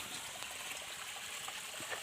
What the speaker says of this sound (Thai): บรรยากาศน้ำไหล ใสเย็นนะครับ